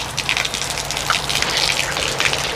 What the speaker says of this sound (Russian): И дождь идет.